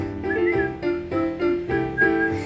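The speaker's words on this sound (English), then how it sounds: "start to whistle while you work" A tune whistled on stage in a high school play adaptation of Snow White, steady melodic phrases over a song's accompaniment, loud and continuous for a few seconds.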